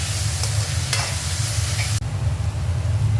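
Egg biryani masala with coriander-mint paste and spices is stirred in a kadai, a loud close sizzle with a low steady rumble beneath and a brief scrape partway through, no speech.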